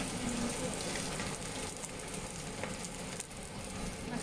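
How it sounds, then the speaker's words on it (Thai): Small squid frying in hot oil, a dense, even hiss and crackle that fills the whole stretch, close and loud, with faint spatters and no break in the sizzle. "จะทอดปลาหมึกนะคะ ปลาหมึกตัวเล็กๆเลยนะ"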